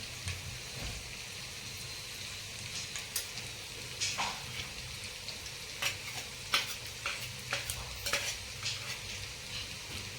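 Mustard seeds sizzle and pop in hot oil in a pressure cooker, a steady frying hiss punctuated by sharp, irregular crackles close by.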